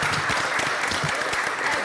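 A room at a city council meeting applauds honorees, a brief, dense burst of clapping at moderate volume with no speech over it.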